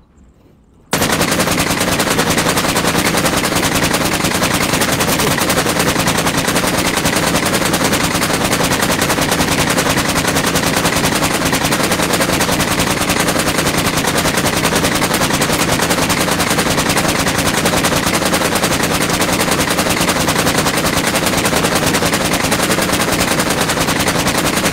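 Rapid, sustained machine gun fire in the VR shooter Onward: after a brief silence, one long, loud, unbroken stream of shots pours out at close range for over twenty seconds.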